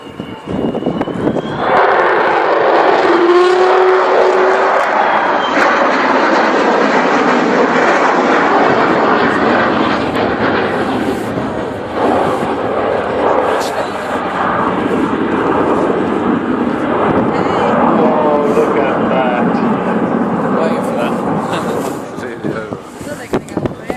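The Avro Vulcan XH558 bomber makes a pass at the Cosford air display with a loud, sustained jet roar that rises, holds and eases off, while a commentator talks over it.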